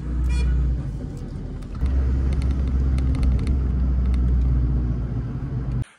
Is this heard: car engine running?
yes